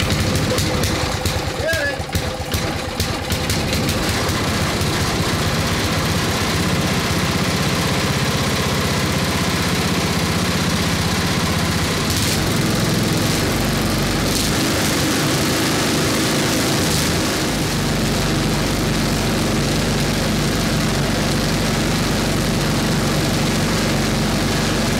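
A 1979 Toro 826 snowblower with an 8hp Briggs & Stratton engine roars loud and close, idling steadily after startup, with a shift in engine note about midway as it runs on continuously.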